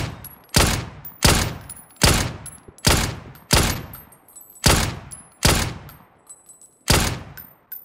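Suppressed gunfire in the battle royale game PUBG: eight evenly spaced muffled shots, each a sharp thud with a short decaying tail, fairly close and standing alone.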